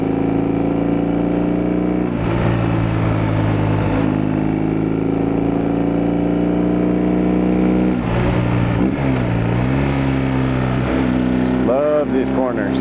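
BMW R18 Transcontinental motorcycle carving mountain corners in the Rocky Mountains, its big engine droning steadily and rising and falling through gear changes and revs, loud and close.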